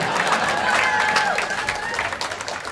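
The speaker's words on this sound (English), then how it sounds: "Start clapping or I'm taking the shirt off." Audience applause in a comedy club, a steady wash of clapping from a crowded room that holds throughout and eases slightly toward the end, with faint voices mixed in.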